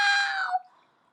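A voice imitates a loud, drawn-out cat meow ringtone, a single nasal wail that slides down and fades out.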